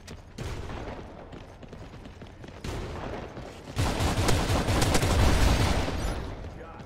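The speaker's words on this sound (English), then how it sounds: "how many overwhelming shots of a shotgun do I need to put on your riot shield to break your riot shield" Heavy automatic blasts from an AS-12 shotgun in a shooter game, pounding against a riot shield; a sharp opening shot, another burst near the middle, then a loud sustained barrage of rapid fire building toward the end.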